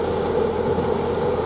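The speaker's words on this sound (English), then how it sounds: "Now we've got another train coming" Train pulling into Ely station, a steady loud low rumble and roar of the wheels and engine, close by and continuous with no talk.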